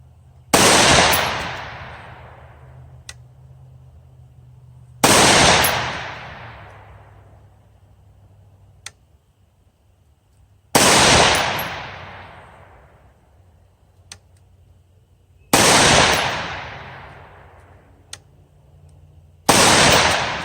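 Rifle fitted with a Mercury Precision barrel fired at targets 110 yards away: five sharp, loud shots spaced about five seconds apart, each with a ringing decay, and no talk between them.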